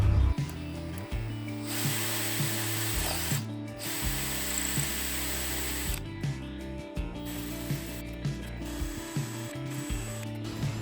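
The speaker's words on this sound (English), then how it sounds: "I'm just gonna drill these out, put some glue in." A power drill whines close up as it bores holes into the wooden fretboard of a Strat guitar, in short repeated bursts with stepping pitch changes and brief pauses between runs.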